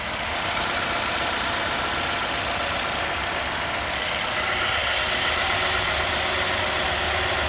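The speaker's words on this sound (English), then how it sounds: "we're just gonna keep the engine running for a few minutes" A steady, even Chevy Cobalt engine rumble idles continuously with a constant hiss on top, no voices, holding at the same level throughout.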